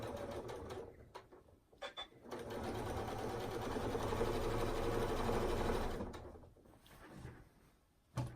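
Sewing machine with a quarter-inch foot stitching a border onto a large scrap quilt, a steady fast whirring run of several seconds, preceded and followed by a few short clicks and handling sounds, heard close and fairly quiet.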